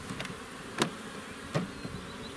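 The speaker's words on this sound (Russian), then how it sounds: "Пчелки есть." Bees inside a hive box with half-foundation frames give a low, steady buzz, with a couple of brief louder passes near the end, close by and with no voices.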